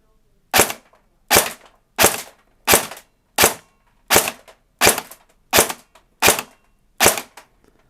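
A CYMA SR25 airsoft rifle with a JVAN 19-tooth gear set fires on semi-auto, ten sharp, close shots at an even pace of roughly one every seven-tenths of a second, with near silence between them.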